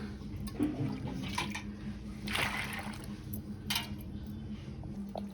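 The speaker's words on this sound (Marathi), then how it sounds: "आता हे वरचं पाणी काढून घ्यायचंय" Water is poured off settled wheat starch in a home kitchen: quiet liquid splashes come in a few short bursts over a low, steady background hum.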